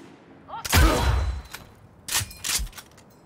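Gunfire at a shooting contest in Cyberpunk 2077, a loud burst of rapid shots followed by a pause and then two more sharp bursts, close and punchy.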